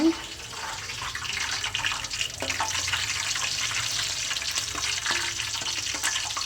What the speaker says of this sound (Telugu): ఇప్పుడు వేడి నూనెలోని పచ్చిమిర్చి, కరివేపాకు వేయించుకొని తీసేసుకుంటే